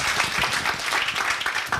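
Audience applause at a senior center's fifth-anniversary ceremony, dense steady clapping from a crowd filling the space for about two seconds with no voices over it.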